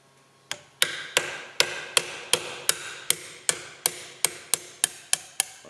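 A hammer bashes a screwdriver against a CAV injection pump from an International Harvester B414 tractor, about fifteen sharp metallic strikes in a steady rhythm, close and clear with no talk.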